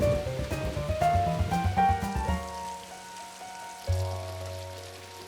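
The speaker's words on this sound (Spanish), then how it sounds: "A Jorge no le importaba la lluvia." Steady rain patters down in a cartoon scene, a soft hiss running beneath bright, tuneful background music that carries most of the clip.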